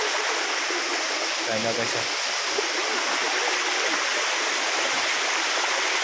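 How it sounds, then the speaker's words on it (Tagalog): Loud, steady roar of a waterfall, close and constant throughout, with someone speaking briefly over it. "Yan yung falls guys."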